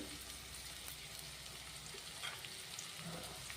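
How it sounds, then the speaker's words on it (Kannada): Onion and curry leaves frying in hot oil make a faint, steady sizzle with a soft hiss throughout, and no voices are heard. "ಎಣ್ಣೆ ಕಾಯ್ದಿದೆಯಲ್ಲ, ಈರುಳ್ಳಿ ಹಾಕ್ತಾ ಇದ್ದೀನಿ, ಕರಿಬೇವು ಹಾಕ್ತಾ ಇದ್ದೀನಿ"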